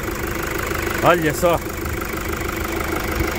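Toyota Hilux 3.0 diesel engine idling steadily with a low, even rumble throughout, while someone speaks briefly over it.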